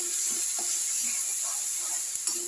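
Chopped onion goes into garlic and hot oil in a pan for an egg curry, giving a steady, fairly soft sizzle with faint stirring scrapes throughout.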